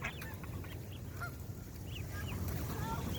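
Canada geese honk repeatedly at a distance over outdoor background rumble, with scattered short honks and calls throughout.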